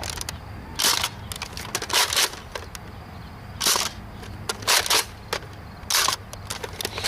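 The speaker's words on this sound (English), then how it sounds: "So we're just going to be shooting its stock Screamline darts" A Nerf N-Strike Recon CS-6 blaster firing stock Screamline darts, a jam-prone blaster: a sequence of about eight sharp, close mechanical clacks and pops, spaced irregularly, some doubled, over a quiet background.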